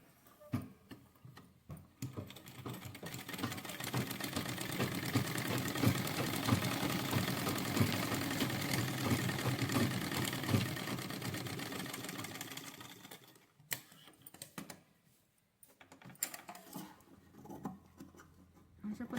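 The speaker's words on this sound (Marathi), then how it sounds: "ही जे आपण फिशकट दिलेलं आहे त्याच्यावर आपण अगोदर टिप मारून घेऊया" A sewing machine stitches along the fish cut of a sleeve, running as a steady close whir for about twelve seconds before stopping, followed by a few scattered handling clicks.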